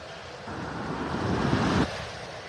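Churning surf on a beach in North Naples, Florida rushes and swells into a louder wash of roiling water, then drops back to a steady background roar.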